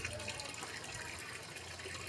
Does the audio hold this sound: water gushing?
yes